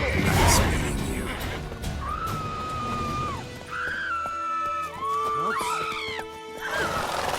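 Roach, Geralt's horse in The Witcher 3, gives several loud whinnies with rising and falling pitch, alongside clopping hooves and game combat clatter, with a voice speaking between the calls.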